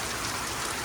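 Steady, dense rain falls outside over village fields, a continuous close hiss of drops with no voices.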